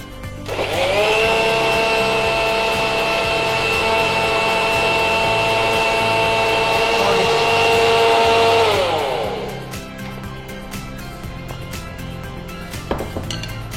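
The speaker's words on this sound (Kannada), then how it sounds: "ಇದೀಗ ಸ್ಮೂತ್ ಆಗಿ ಗ್ರೈಂಡ್ ಮಾಡಿ" A mixer grinder whirs steadily at high speed as it blends banana and dates into a thick milkshake, then winds down, followed by clinks of the jar and light handling noises.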